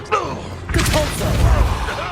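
Compulso spell cast during a Hogwarts Legacy duel, a sudden magical burst and thud mixed with swirling effects and busy combat noise.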